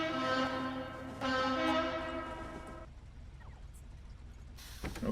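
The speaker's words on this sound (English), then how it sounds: "Hello, little train." A small train in the Factorio game sounds two long tonal horn blasts, close and clear, followed by quieter rumbling rail noise and a brief clatter at the end.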